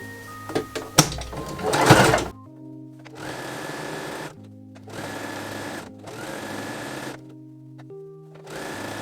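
After a few brief clatters of fabric handling, a sewing machine stitches the folded-back 1.5 cm hem of a woven fabric top in four steady, fairly loud bursts separated by short pauses, close up and alone.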